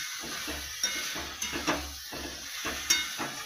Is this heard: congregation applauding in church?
no